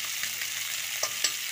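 Chopped onion fries with potatoes in a pan for a Bengali aloo dum, making a brief, steady sizzling hiss up close with a couple of light stirring touches.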